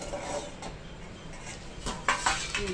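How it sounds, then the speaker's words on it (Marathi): A lid lifted off a cooking pot of Maharashtrian brinjal bharit, a muffled clatter of metal followed by a couple of sharp clinks toward the end over a low kitchen hum. "बघूया आपण झाकण उघडून"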